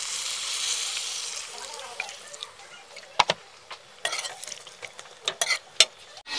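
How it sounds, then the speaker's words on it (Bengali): Water poured into a pan of frying red chili curry hisses loudly at first, then settles into softer bubbling with sharp clinks and scrapes of a spoon stirring against the pan. "এতিয়া মই ইয়াতে পানী এড কৰি দিম"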